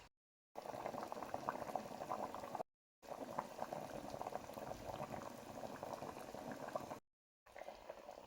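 An Ivorian clear sauce with okra, eggplant and chili boils steadily in a pot, giving a dense, continuous bubbling that is briefly cut off twice before resuming.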